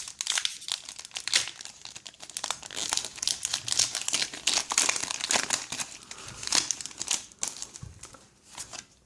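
Close, continuous crinkling and tearing of foil wrappers as Pokémon Explosion Plasma booster packs are opened, in an irregular stream of crisp rustles and crackles with no speech.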